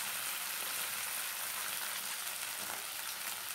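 Sliced potatoes fry in hot oil with curry leaves, giving a dense, continuous close sizzle and crackle that stays even and loud throughout, with no talking.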